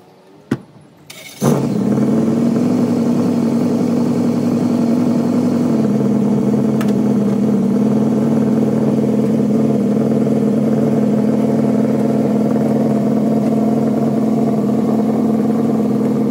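A turbocharged LS race truck engine with a 76mm turbo, high-ram intake and 1,500cc injectors fires up after a couple of sharp clicks, then settles into a loud, steady, rumbling run that holds for the rest of the clip.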